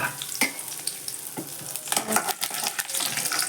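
Cinnamon and garlic crackle and sizzle in hot oil in a pan, with spatula stirring scrapes and clinks over the close frying hiss, growing busier toward the end.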